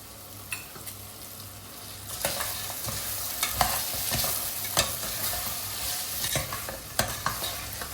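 Vegetables and soaked green peas stir-fry for veg pulao, with a constant hissing sizzle and repeated spatula scrapes and knocks against the pan, close and fairly loud, without speech.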